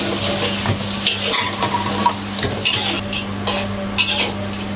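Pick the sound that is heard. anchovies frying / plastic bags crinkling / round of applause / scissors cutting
anchovies frying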